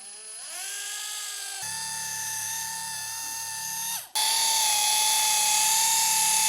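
Rotary polisher fitted with a microfiber pad working on car paint compound, a close, loud, high motor whine that holds steady, dips and shifts pitch as speed changes, then surges back stronger and steady.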